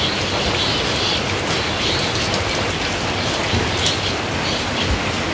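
Rain falls outdoors in a village, a dense, steady wash of drops close by and fairly loud, continuous with no talking.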